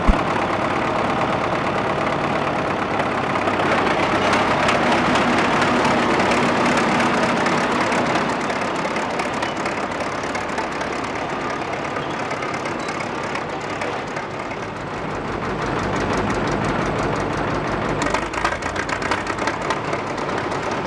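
An old 60-horsepower Chelyabinsk tractor engine chugs steadily and loudly throughout, a rough continuous drone with a slight dip in the middle before picking back up.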